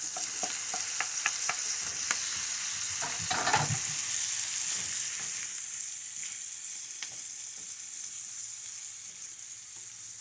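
Corn seasoned with salt and pepper frying in a pan with softened onions, a loud continuous sizzle broken by scraping stirs and clicks of a utensil, easing slightly toward the end.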